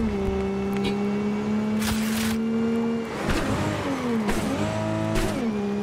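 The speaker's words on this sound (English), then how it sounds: "this car really sounds like a Japanese tuner" A car in the Cyberpunk 2077 video game revs with a tuner-style engine note, a steady drone that rises and falls through several throttle swells and shifts, loud and close, with no one speaking.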